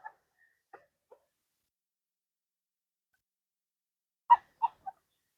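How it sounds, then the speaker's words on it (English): A few sparse, short quacks from ducks near a river, faint at first and then three louder calls in quick succession, separated by near silence. "I'm hoping that they're quacking and some of the river noise is coming to you"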